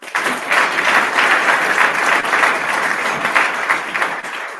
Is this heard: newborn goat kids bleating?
no